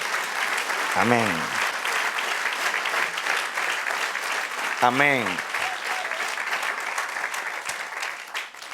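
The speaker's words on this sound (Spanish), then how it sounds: "Dale un aplauso al Señor." A church congregation applauds steadily in dense, moderately loud clapping, while a voice twice calls out a short word over it.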